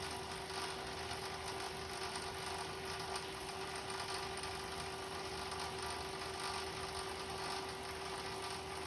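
A carcass drop elevator lowers slowly with a continuous mechanical whir and a steady tonal hum, even and moderately quiet throughout with no talk.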